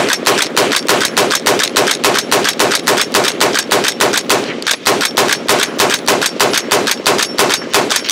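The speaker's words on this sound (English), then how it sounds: "So we're gonna fire 29 rounds from this system here" A rifle fires round after round from a detachable magazine in a fast, steady rhythm, roughly three or four shots a second. Each shot is loud and sharp, and there is one brief pause midway.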